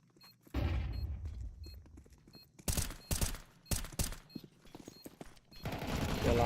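Bursts of rifle fire in a Counter-Strike match, several loud clustered volleys separated by short quieter gaps, with a sustained burst at the end and no talk.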